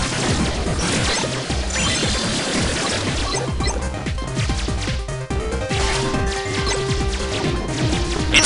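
An enemy is blown apart by a rapid smashing attack in the Kingdom Hearts Re:coded video game: loud, repeated crashing impacts over dense, busy game music, with no talking.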